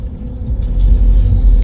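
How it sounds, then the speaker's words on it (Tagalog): Cars idling and creeping in a traffic jam, a loud, close, continuous low engine rumble with faint scraping, heard from inside a vehicle with no talking. "naipit na po kami sa traffic"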